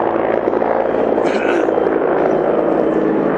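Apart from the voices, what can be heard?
helicopter flying in the distance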